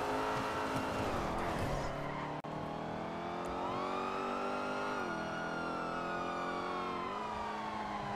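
A video-game car engine drones steadily while driving onto a freeway during a roleplay chase, with pitch rising and falling through gear shifts and a brief tire squeal, loud and continuous with no talking.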